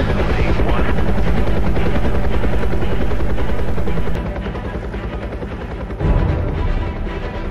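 Loud helicopter rotor chop and turbine whine fill the clip at takeoff from Wenatchee, a rapid, steady thudding beat that shifts and swells partway through.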